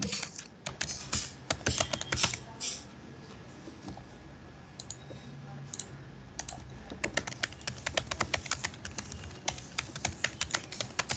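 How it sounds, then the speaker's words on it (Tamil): Rapid typing on a laptop keyboard, steady clusters of light clicks and taps close by, with brief pauses between bursts and no talking. "இல்ல லேப்டாப் டைப் பண்றேன்"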